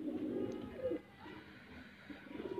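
High flyer pigeon cooing softly while being handled, a low, faint, throaty warble that comes and goes over about two and a half seconds.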